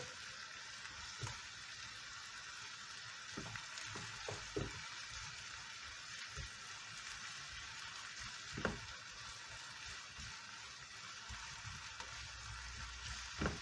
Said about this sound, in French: J'ai fait revenir ma viande hachée à feu vif.